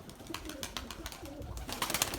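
Pigeons flap out of a large coop where they had been shut in a long time, with a flurry of wingbeats and some cooing outdoors.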